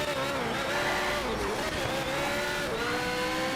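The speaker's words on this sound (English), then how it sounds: "I think they did a good job with the sound of the engine" Car engine in the racing game Need for Speed Shift 2: Unleashed revving hard and steadily, its pitch rising and dipping through gear changes, loud and continuous with a faint voice underneath.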